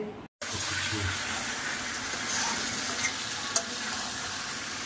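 Marinated meat fries in a pan with a dense, continuous sizzle and hiss after a brief cut at the start, plus a couple of faint clinks, and no clear talking.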